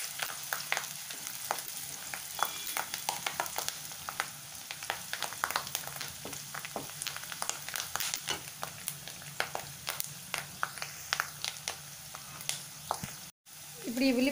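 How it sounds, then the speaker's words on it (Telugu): Green chillies and curry leaves sizzle and crackle steadily in hot oil in a pan, a continuous frying hiss with scattered pops and an occasional stir, heard up close for the whole stretch with no talking. "ఒక 3 పచ్చిమిర్చి కరివేపాకు వేసి దీన్ని బాగా వేయించుకుందాం"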